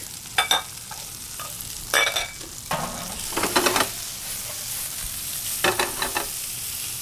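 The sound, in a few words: shallots and sliced garlic sizzling in a pan with mushrooms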